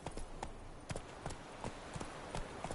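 Roach the horse's hooves clip-clop in a steady gait across ground in The Witcher 3, close and evenly rhythmic over a background hum.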